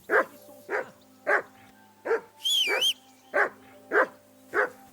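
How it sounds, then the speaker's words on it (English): A dog in the video game Kingdom Come: Deliverance II barks repeatedly at a steady pace, close and clear, with a brief whine or yelp between the barks. "That barking was a pain in the ass."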